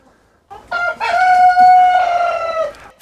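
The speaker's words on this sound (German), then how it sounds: "Ja klar, mein Hahn kräht." A rooster in a home garden crows once in a single loud, close, drawn-out call lasting about two seconds, alone with no talk around it.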